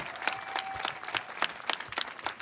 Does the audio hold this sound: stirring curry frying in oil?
no